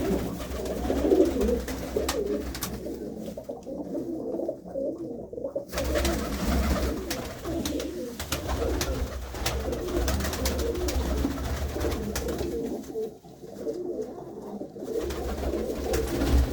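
Pigeons coo softly in low, repeated murmurs that run on for a while, with faint background hum and no talking.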